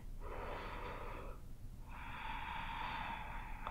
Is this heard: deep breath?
yes